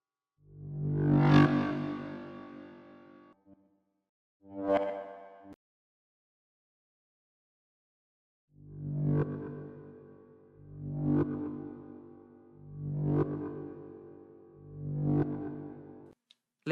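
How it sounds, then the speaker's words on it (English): Deep growling synth bass in an FL Studio ethnic techno production, playing loud repeated sustained notes with harmonic grit: two early phrases, a pause, then four evenly spaced swells, with no voice over it. "Now we need a deep growling synth in the background"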